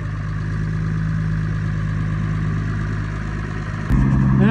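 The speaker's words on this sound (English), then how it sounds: "It's idling now. It's kind of revving up and down" A diesel engine idles steadily with a low, even drone, its governor springs in need of adjustment, then the revs jump abruptly near the end and hold at a higher, louder pitch, with no one speaking.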